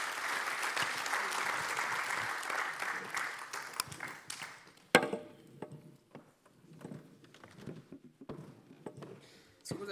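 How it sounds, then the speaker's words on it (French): An audience claps in a dense burst of applause that fades after a few seconds into scattered, trailing claps and murmurs. "applaudissements, s'il vous plaît"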